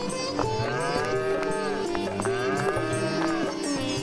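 A pair of bulls bought at a village fair moo loudly and close, with long drawn-out lowing calls that overlap one another against a faint background.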